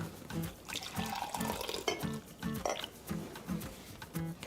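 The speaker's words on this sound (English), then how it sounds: "And then when I go to serve it up, I pour it into a cup." Homemade lemon, ginger and turmeric tea poured into a cup, a close, gurgling stream of liquid with irregular splashy pulses and no talking.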